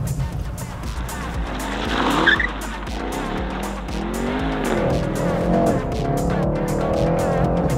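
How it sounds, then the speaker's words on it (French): A Mercedes E63s drifting on a slippery surface, its engine roaring steadily while the tires squeal loudly across several seconds, the screech rising in the middle and holding up close. "j'avais oublié que le mode drift était enclenché"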